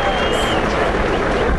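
A Kocaelispor stadium crowd at İsmetpaşa Stadium applauds a player leaving the field, a steady distant roar of clapping under close commentator speech.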